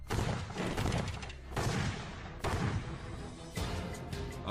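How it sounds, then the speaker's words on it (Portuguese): Four heavy booming blasts from a sonic cannon in sequence, each a sharp loud onset followed by a rumbling decay, spaced about a second apart. "Após algumas explosões"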